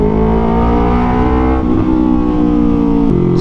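A Yamaha R3 sport motorcycle with a loud aftermarket exhaust revs hard and steadily up near 8,000 RPM, a close, continuous droning engine tone with pitch shifts between throttle blips and no talking.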